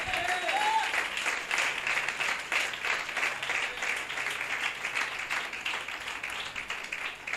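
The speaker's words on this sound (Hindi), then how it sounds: "इस अच्छे दोस्त के लिए जोरदार तालियां" An audience at a religious talk breaks into hearty applause, dense clapping that continues steadily and fairly close with no talk over it.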